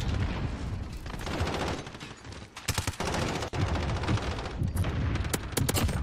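Shotgun fire in the video game Modern Warfare, dense and loud, with rapid overlapping blasts and sharp cracks that fill the whole stretch almost without pause.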